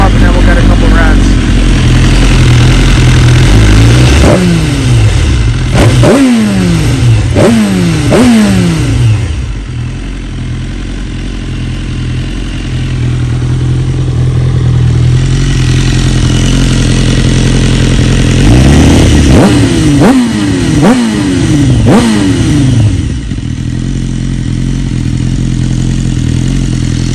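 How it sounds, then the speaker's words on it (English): A BMW S1000RR sport bike idles loudly at close range, its inline-four engine warming up, then is sharply revved in two clusters of quick rising and falling blips before settling back to a steady idle. "I'll let this thing warm up and then we'll get a couple revs"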